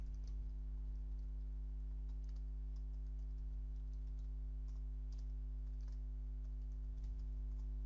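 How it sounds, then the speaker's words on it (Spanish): Computer keyboard keys tapped while a password is entered, a quiet run of light irregular clicks over a steady low electrical hum, with no talking. "Voy a introducir la contraseña que es correcta."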